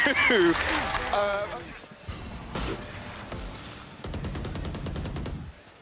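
Rapid automatic gunfire in a Valorant esports match between Fnatic and FUT Esports, with sharp bursts and a fast, evenly spaced volley near the end, heard under excited commentators talking.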